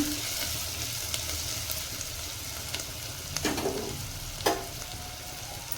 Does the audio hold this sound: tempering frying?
yes